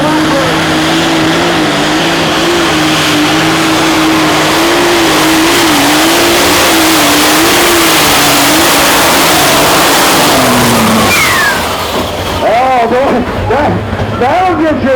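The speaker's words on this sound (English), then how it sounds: "Light Super Stock coming to the line, Johnny Blackburn." A Light Super Stock pulling tractor engine roars loud and sustained at a pro pulling event in Hillsboro, Wisconsin, its pitch shifting as it revs, with an announcer talking over it throughout.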